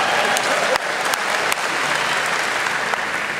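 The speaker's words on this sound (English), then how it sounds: "I actually didn't expect applause there." An audience at a university honors speech breaks into steady applause, a dense wash of clapping from many hands that holds at an even level for a few seconds, with no voices over it.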